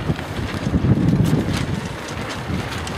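Strong wind blows across the microphone on a windy day near the water, a steady gusty rumble with brief swells and buffeting throughout, heard alone.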